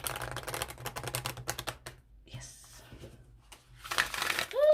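Oracle cards being shuffled in quick riffling bursts, a rapid flutter followed by a pause and another shuffle, close by.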